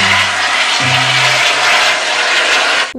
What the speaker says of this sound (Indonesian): Lihat teman-teman, ini adalah helikopter.